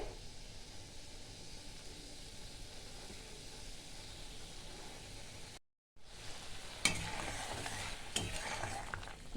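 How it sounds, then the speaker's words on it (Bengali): Spice masala for a Bengali puti fish curry frying and bubbling in a pan, a low steady sizzle with a brief dropout partway, then a slightly louder sizzle with stirring. "মশলাটা এবার একটু ফুটে যাবে ভালো করে"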